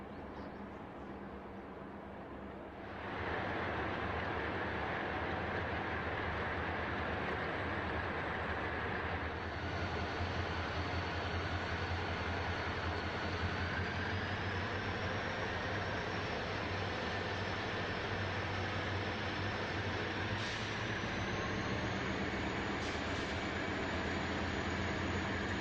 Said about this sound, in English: A stop at East Winton yields an SD40-2 wearing BN's last paint scheme.